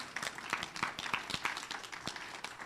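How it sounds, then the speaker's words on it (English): Audience applause fills a town hall meeting room, a steady patter of many hands clapping at close range with no break, and faint voices underneath. "applause."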